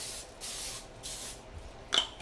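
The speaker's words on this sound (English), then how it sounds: "make sure you spray your pan." Cooking spray hisses onto a baking pan in two longer bursts followed by a short final spritz and a light clatter, fairly faint and close, with no talking.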